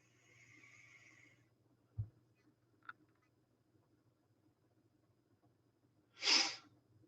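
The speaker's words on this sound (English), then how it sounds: "what people talking about me sniffling again?" One loud, close sniff breaks a mostly quiet stretch, after a few faint thumps and a low background hum.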